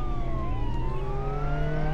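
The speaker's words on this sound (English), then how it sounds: "Don't forget to turn off your sirens." A wailing police car siren in the Roblox Jailbreak game, its rising and falling tones sweeping steadily and loudly over a low engine hum, with no talking.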